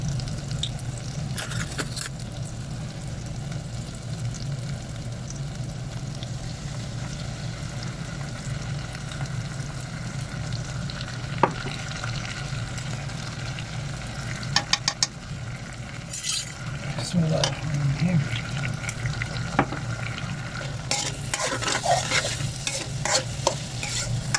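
Chinese fried rice with soy sauce stir-fried in a pan, with a steady sizzle and continuous scraping and stirring, and occasional clinks of the utensil against the pan throughout.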